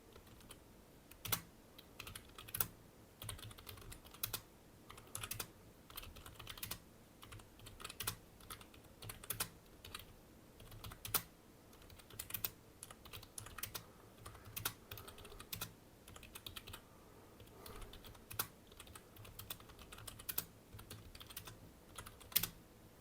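Typing on a cheap computer keyboard during a typing test: a continuous stream of quick, clicky key presses with irregular rhythm and occasional louder strokes, close up and without voices.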